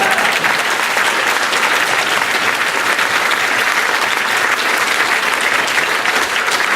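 Loud, sustained audience applause at a political meeting for undecided voters in Scotland, a dense, even wash of many hands clapping throughout with no break.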